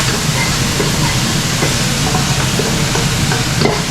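Loud, constant sizzling of garlic frying in a hot wok over high heat, a dense crackling hiss with occasional scrapes of stirring.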